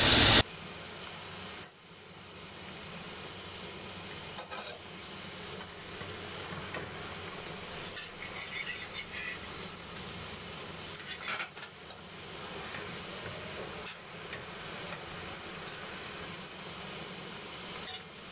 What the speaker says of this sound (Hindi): पहले एक जगह थोड़ी सी गर्म करूँगी और हल्का सा घी दूसरी तरफ भी लगा लूँगी।